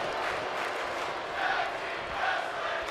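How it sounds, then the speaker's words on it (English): A large arena crowd in the wrestling game WWE 2K25 gives a sustained roaring cheer, dense and loud throughout with two slight swells of excitement. "the crowd showing their appreciation for this matchup"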